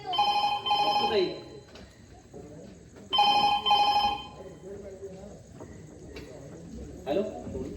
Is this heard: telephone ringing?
yes